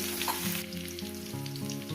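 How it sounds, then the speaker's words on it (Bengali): Potatoes and gathi kochu taro fry over medium gas in a pan, making a quiet, steady sizzle with faint stirring scrapes. A low background hum runs underneath and no one speaks. "আলুটাকে ভেজে নিচ্ছি"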